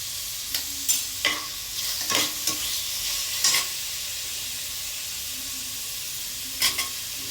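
Thinly sliced onions with salt frying in a pan, a steady close sizzle broken by several sharp stirring scrapes and clatters of a spoon against the pan, with no talking.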